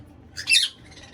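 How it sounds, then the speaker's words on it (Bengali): A cockatiel gives a single short, shrill squawk while being held in someone's hand, close and clear over a quiet room background. "তো প্রথমে পাখিটা এইভাবে ধরতে হবে"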